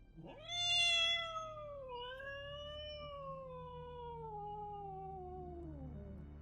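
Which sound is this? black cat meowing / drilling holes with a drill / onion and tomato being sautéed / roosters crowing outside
black cat meowing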